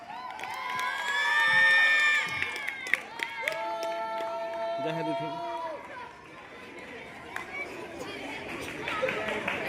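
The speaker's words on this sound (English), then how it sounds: "Groups, please cheer for your houses." Schoolchildren at an annual day prize distribution cheer and shout for their houses, a loud swell of young voices that fades into scattered calls and chatter over a crowded hall.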